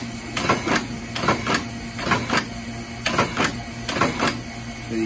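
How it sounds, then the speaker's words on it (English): An Astro envelope feeder runs at an auction, giving a steady mechanical clatter with repeated rhythmic clicks and thumps over a constant motor hum, close and moderately loud with no talking. "Again, up for auction is an Astro envelope feeder."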